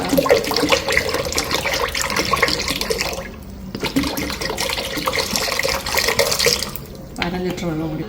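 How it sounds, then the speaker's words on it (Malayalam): Water is poured into a container for a condensed milk drink, splashing and trickling in bursts with brief pauses. "കുറച്ച് കൂടുതൽ വെള്ളമൊക്കെ ഒഴിച്ചിട്ട്."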